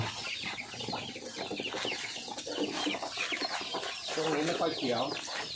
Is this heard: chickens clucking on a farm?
yes